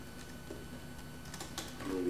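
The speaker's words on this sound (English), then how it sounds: "Clicking away here." Computer keyboard keys and mouse buttons click in a quick, irregular patter at close range, with faint talk in the background.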